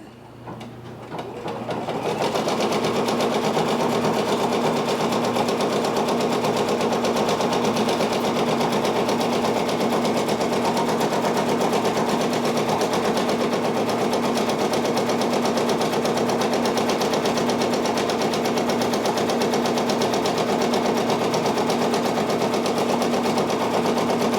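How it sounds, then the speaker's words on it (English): A Brother Persona PRS100 embroidery machine spins up and stitches a design, settling into a loud, steady, rapid mechanical buzzing hum that runs unbroken throughout. "And let's watch this thing stitch on out."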